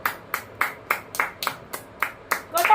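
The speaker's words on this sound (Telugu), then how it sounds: "క్లాప్స్ కొట్టండి, క్లాప్స్ కొట్టండి" Hands clap in a steady rhythm, about ten sharp claps close by at a family Raksha Bandhan celebration at home, with voices starting up at the very end.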